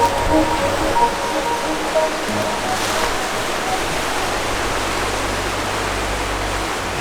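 A river rushes continuously in a steady broadband roar, loud and close, with no talk heard over it.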